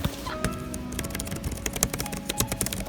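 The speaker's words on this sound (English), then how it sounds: "I like this keyboard already because of the typing on it." Typing on an iPad Pro 2018 keyboard case, a rapid, uneven run of crisp close-up key clicks that grows busier toward the end, with no voices.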